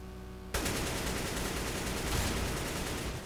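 Counter-Strike: Global Offensive gunfire erupts after half a second of quiet into a dense, loud, sustained barrage of rapid shots that continues unbroken to the end.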